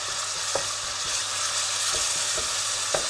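Ginger garlic paste for a fenugreek mutton curry sizzles steadily in hot oil, with a few soft scrapes of a stirring spoon against the pan.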